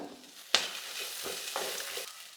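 Curry leaves and mint sauté in a pan, a sharp spatula knock starting a soft, close sizzle with a couple of lighter stirring scrapes after it, no voices.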